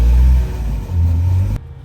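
A Ford Bronco's engine revs hard in deep snow as it strains to drive out, a loud, close rumbling roar that surges, dips briefly, then surges again before cutting off abruptly.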